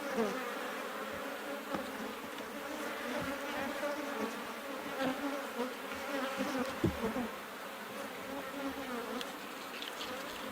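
Honey bees buzz densely around hive frames, a steady close swarm hum with individual bees droning past, no talking.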